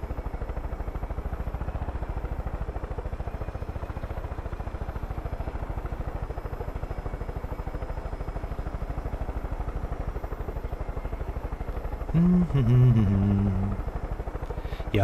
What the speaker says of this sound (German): An Höhe gewinnt tut er echt langsam, der Heli.